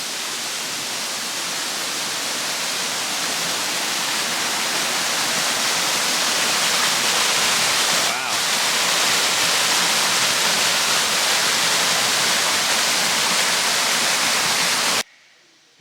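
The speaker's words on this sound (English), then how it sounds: "it kind of sounds and looks like there's a huge waterfall here" A powerful waterfall roars continuously, a dense wall of rushing water that cuts off abruptly at the end.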